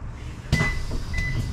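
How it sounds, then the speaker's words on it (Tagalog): A bus door bangs shut with a sharp thud and a rattle, followed by a brief beep and the low hum of the idling bus. "Sarado na yung pinto."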